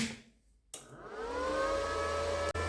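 A Parkside PIFDS 120 inverter wire welder powers on with a rising electrical whine that settles into a steady hum with a low drone, ending with a brief click.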